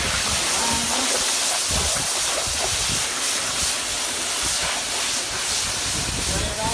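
Steady hissing water spray rinsing white motocross gear runs continuously, close and loud, a broad rushing wash with faint clatter underneath.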